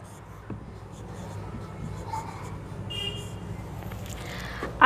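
Chalk or marker scratches out numbers on a classroom board in short, faint strokes during a Hindi math lesson, close but low against a background hum, with a louder knock at the very end.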